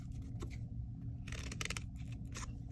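A few quick scissor snips through a paper rose template, crisp and close, over a steady low background hum.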